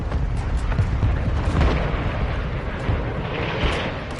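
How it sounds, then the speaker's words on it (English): Mortar strike explosions from Call of Duty: Modern Warfare 2 form a dense, rumbling barrage of overlapping booms and deep blasts. The roar is continuous and loud, with no speech. "Mortar strike inbound."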